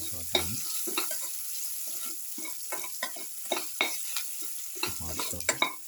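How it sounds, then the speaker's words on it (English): Garlic, tomato and okra sautéing in a pan, with a steady sizzle under repeated sharp scraping and stirring strokes from a utensil, close and fairly loud throughout. "again saute"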